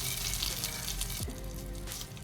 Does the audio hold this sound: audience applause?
no